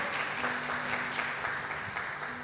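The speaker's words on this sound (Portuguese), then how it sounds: "vamos aplaudir o Senhor, porque nós somos a igreja" A church congregation applauding the Lord, sustained dense clapping from many hands filling the room evenly throughout at a steady, fairly loud level, with a faint tone humming underneath.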